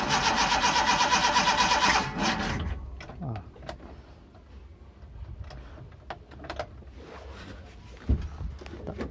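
A Suzuki Carry 1.0 engine with a worn camshaft, hard to start, cranking on its starter motor in a fast, loud, chugging rhythm for about two and a half seconds without catching. Quieter mechanical ticks and clicks follow.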